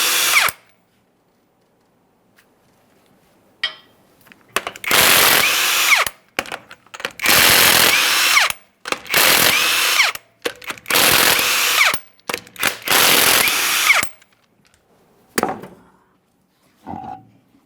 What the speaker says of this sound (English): To remove the wheel, you want to remove each of your 21mm lug nuts